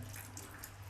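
Water poured into a blender jar for a herbal heart remedy, mixed with garlic; a steady, close running-water stream with no talk.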